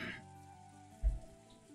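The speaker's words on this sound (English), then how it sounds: "I'm just looking at the rain for a while." Steady rain falling as ambient background sound in the Umineko: When They Cry visual novel, a soft continuous patter with a brief low thump partway through.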